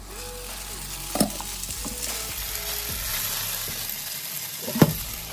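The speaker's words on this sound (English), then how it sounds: "Put some butter into a pan and sauté the strained noodles until they get a nice brown color." Potato noodles sautéing in butter in a pan give off a steady close sizzle, with two sharp scraping stirs at about 1.2 and 4.8 seconds.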